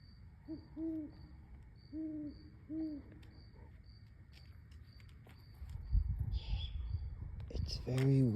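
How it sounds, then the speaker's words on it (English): An owl hoots at night outdoors during a dog walk. A few faint, distant hoots come early over a steady insect-like ticking, followed by rustling and shuffling footsteps. "right now I'm walking the dog and literally I can hear sounds of an owl chirping"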